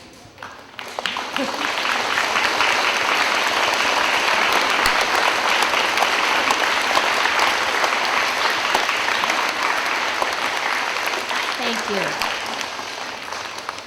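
An audience applauds standing teachers and staff in a loud, dense wave of clapping that swells quickly and holds steadily for several seconds, with a brief spoken word near the start.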